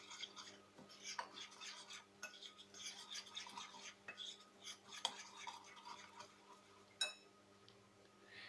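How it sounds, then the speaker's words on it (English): Spoon stirring a potato mixture with chickpea flour (besan) in a bowl for aloo tikka, giving soft, continuous scraping and clinking at low volume with a brighter tap near the end. "Now mix again."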